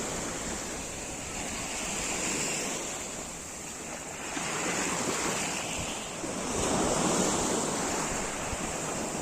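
Sea waves and surf wash steadily onto a Tyrrhenian Sea beach at Torvaianica, a continuous broad roar that swells and eases in slow surges, with some wind buffeting the microphone and no voices.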